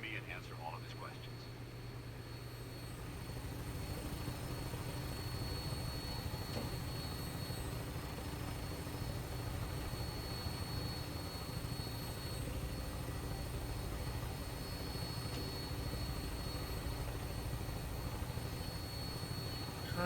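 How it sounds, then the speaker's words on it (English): A steady aircraft engine roar from Fallout 4 drones on final approach to an airport, swelling after a couple of seconds into a constant, loud rumble with a high whine on top. "We're on final approach to the airport."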